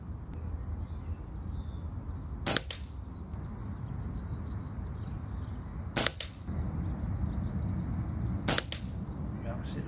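Three sharp, distant-sounding rifle shots at roughly three-second intervals, fired at targets through a mil-dot scope, over low outdoor background noise with faint bird calls.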